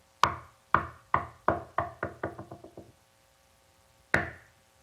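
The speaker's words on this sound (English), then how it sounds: "It's usually hung by a rope and there's a mallet and it's struck. And it makes a loud sound." Hollow wooden knocks strike in an accelerating series, bouncing quicker and fading like a dropped roll, then one more sharp knock after a pause.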